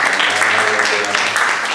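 Loud audience applause rises at a church youth conference session, a thick wash of clapping with a voice talking over it.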